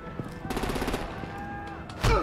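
Gunfire rattles in quick bursts during a scene in Batman: The Enemy Within, ending in a louder impact, with voices shouting over it.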